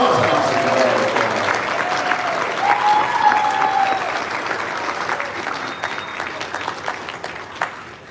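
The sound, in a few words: applause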